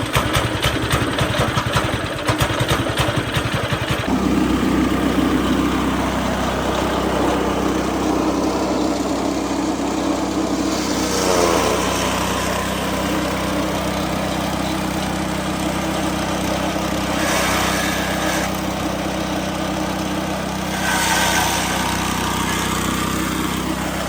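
A Briggs & Stratton engine on a shredder machine starts after a few seconds of rough noise, then settles into a steady, droning idle that runs on alone, moderately loud and close.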